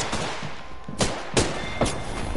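Gunfire in the shooter game Apex Legends, several sharp bursts of shots a fraction of a second apart, loud and close over a low background rumble.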